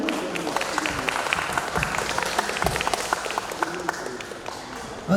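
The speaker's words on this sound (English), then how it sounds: "Give big applause for all of us." Steady applause from a crowd at an English speech competition between vocational high schools in Maumere, continuous and fairly loud throughout.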